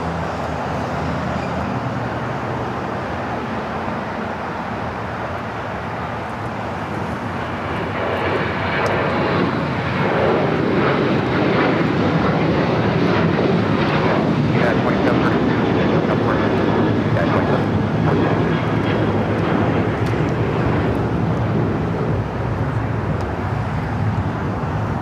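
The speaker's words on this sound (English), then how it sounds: "That flight's taking off, heading to Denver. Flight 2732, 737-900 ER." Boeing 737-900ER jet departing LAX on runway 25 right, its engines building from a distant rumble into a loud, sustained roar that holds steady through the takeoff roll.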